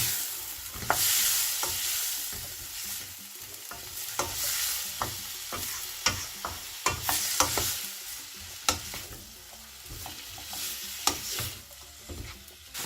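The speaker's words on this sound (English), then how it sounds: "Now add in the prawns and a teaspoon of soy sauce. Mix it all together." Prawns and vegetables being stir-fried with soy sauce: a steady sizzle from the pan, broken by repeated sharp scrapes and knocks of a spatula as everything is tossed together, with no talking.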